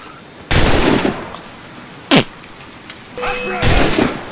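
Bursts of rapid gunfire from Assassin's Creed IV: Black Flag, loud and close, with a separate sharp single shot in between and a short electronic tone.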